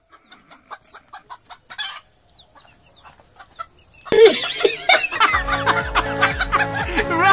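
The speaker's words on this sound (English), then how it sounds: "This chicken really wanted to express its feelings." A chicken gives a few sharp clucks, then breaks into loud, agitated squawking and crowing close by.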